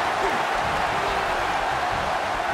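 An arena crowd in the wrestling video game WWE 2K17 keeps up a dense, steady wash of cheering and applause-like noise, fairly loud and unbroken over the short stretch.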